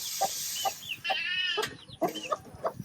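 Several chickens cluck in short, repeated bursts nearby on a ranch, around an automatic feeder, with a few higher squawks mixed in over a quiet background.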